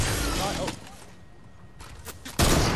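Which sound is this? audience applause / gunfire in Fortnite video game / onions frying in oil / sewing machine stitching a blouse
gunfire in Fortnite video game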